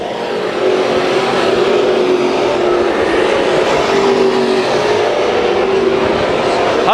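Spears SRL Southwest Tour race cars roar around the Irwindale Speedway oval, a loud continuous engine drone with shifting pitch as the pack circles, and a commentator's voice is faintly audible beneath.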